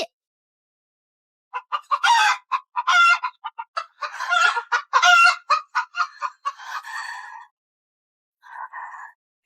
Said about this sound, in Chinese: 把那2只大公鸡抱进来，给屋里添添阳气